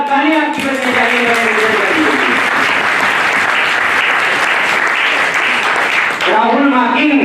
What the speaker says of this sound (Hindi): बहुत जोरदार तालियां बजनी चाहिए साथियों